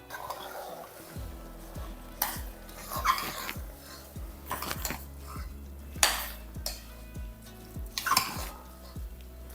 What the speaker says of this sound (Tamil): பாருங்க இந்த அளவுக்கு நல்லா வதக்கிடுங்க இந்த தக்காளியோட சுவை எல்லாமே இதில் ஏறிக்கும்